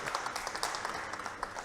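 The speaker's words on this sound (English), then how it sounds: "Yeah, we can clap that." Brief, faint audience applause during a conference session, a steady patter of clapping that stays low and distant for under two seconds, with no voices over it.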